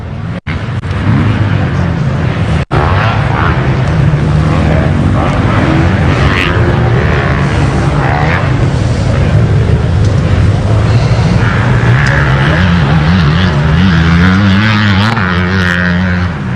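Motocross bikes race around a dirt track over tabletop jumps, a loud continuous roar of several engines rising and falling as riders pass close, with a crowd-wide wash of sound throughout.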